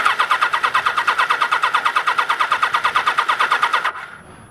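A Kawasaki GPz900r motorcycle's starter cranks the engine in a fast, steady rhythm for about four seconds without catching, a suspected vapor lock stopping the fuel, then cuts off to leave a faint hum.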